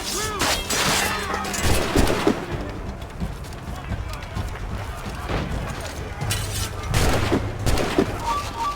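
A musket volley in the Assassin's Creed Rogue video game, loud bursts of massed gunfire and booming cracks during a chaotic fort battle, with shouted voices and clattering over a continuous din.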